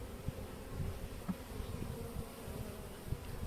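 Honey bees buzz at a weak overwintered hive, a soft continuous low drone with a few individual bees passing close, quiet and steady with no talking.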